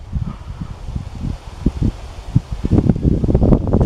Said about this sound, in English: It's a little cool with this wind.